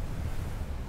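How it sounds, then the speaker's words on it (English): Ocean surf rolling onto the shore, a dense low roar of breaking waves with a windy rumble, steady and fairly soft with no voices. "That rhythmic pulse of the surf and the sea."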